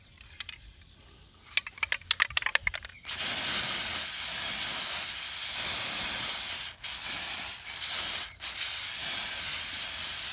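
Several sharp clicks and taps come first, then an aerosol can sprays a disc blade in a long, loud hiss with brief dips where the spray stops for a moment.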